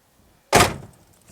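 A Pontiac GTO's door swings shut with a single loud, close slam after a moment of near silence, then fades quickly into a quiet room.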